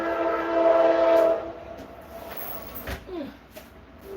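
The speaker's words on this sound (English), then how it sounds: "That horn gets really loud." A passing train sounds its loud, sustained horn at the start, heard from inside a nearby kitchen, then the horn fades into a steady rumble with brief clatter and knocks.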